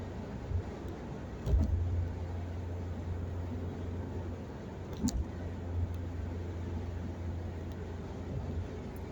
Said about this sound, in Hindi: मेरी गाड़ी अभी 100 पे चल रही है